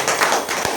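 A crowd at a gathering claps in a short, dense burst of applause, loud and close.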